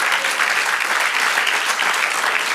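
A church congregation applauds steadily and loudly throughout, a dense even wash of clapping with no pause.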